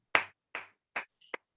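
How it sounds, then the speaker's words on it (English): Three distinct bursts of sound at a Toastmasters club meeting in Bahrain, then a small snap, like a few sharp hand claps from the audience; it is brief and sparse, not a sustained applause. "with a big round of applause"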